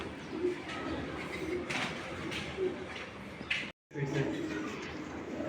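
Racing pigeon fitted with a race chip and club tag, giving soft intermittent coos close by against steady background noise, with a brief dropout near the end.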